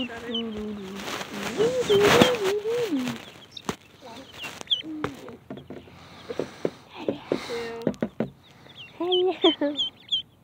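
Chickens and small chicks cluck and peep close by in a box, in short irregular calls, with a person talking over the first few seconds.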